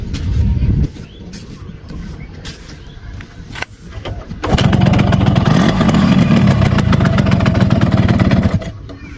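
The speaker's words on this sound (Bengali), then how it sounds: "তো এখন আবার স্টার্ট দিয়ে দেখি যে কিকে স্টার্ট নিচ্ছে কিনা।" A Yamaha RX motorcycle with a freshly tuned carburetor is kick-started; after quieter low rumble, the engine catches and runs loudly and steadily for several seconds before cutting back down near the end.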